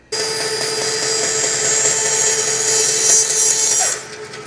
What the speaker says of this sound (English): I'm gonna cut it on a 45, and I think I'm gonna do that on the bandsaw